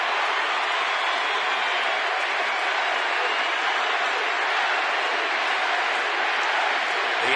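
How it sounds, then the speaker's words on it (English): A big ballpark crowd at an Arizona at Atlanta baseball game keeps up a steady, dense roar of cheering and chanting for Manny, continuous and loud for the whole stretch with no break. "And the crowd really into it now with the chant, Manny, Manny."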